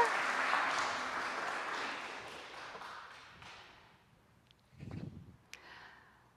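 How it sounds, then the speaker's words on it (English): A church congregation applauding at a Sunday service, the clapping loudest at first and fading away, followed by a few scattered thumps and small sounds. "that's worth applauding for"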